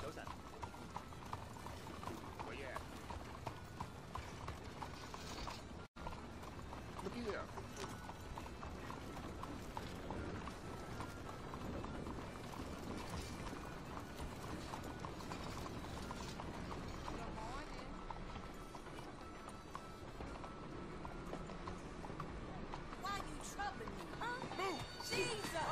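Horse hooves clip-clop steadily through a Red Dead Redemption 2 story-mode ride, a continuous rhythmic patter under dense game ambience and talk, with a brief dropout near the six-second mark.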